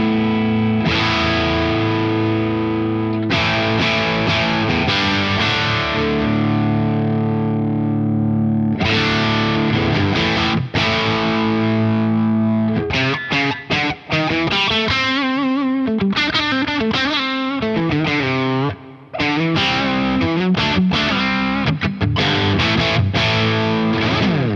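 An electric guitar runs through a Crazy Tube Circuits Super Conductor overdrive pedal with its fat switch engaged. It plays thick, distorted sustained chords, then busier riffs with rhythmic chugs and short pauses, loud and close, with no talking.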